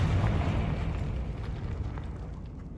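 Confringo fire spell explosion in Hogwarts Legacy, heard as a dense, rumbling blast already underway that decays steadily over a few seconds, loud and close.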